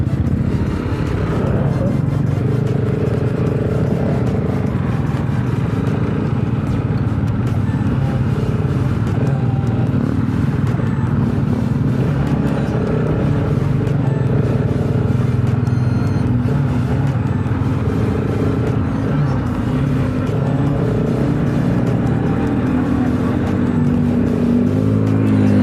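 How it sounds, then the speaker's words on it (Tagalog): Motorcycles ride along a road in Mangatarem, Pangasinan, their engines a loud, steady roar with continuous rumble and wind, heard close from among the riders. "Dami mga motor oh."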